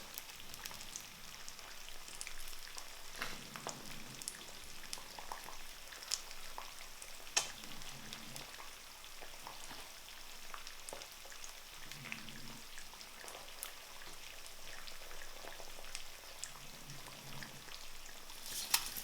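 Eggs fry in a hot pan with a steady, faint crackling sizzle and scattered tiny pops, continuous and close, with no talking.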